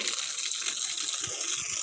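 Water runs steadily from a tap, filling a container with drinking water, a continuous close hiss and gush with no voices.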